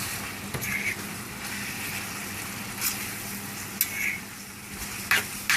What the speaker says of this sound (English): Just a few stirs.